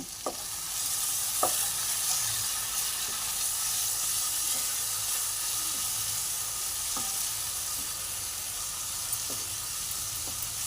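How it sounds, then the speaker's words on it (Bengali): Spice masala with sugar being sautéed and stirred in oil for potoler dolma, giving a constant close sizzle and hiss with occasional light clicks of a spatula against the pan. "মশলাটা ভালো করে কষিয়ে নিয়ে"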